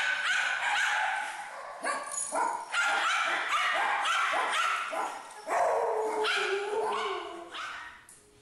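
A shelter dog being evaluated after a couple of weeks of behaviour treatment barks in a run of loud, close, sharp bursts, with no talking over it.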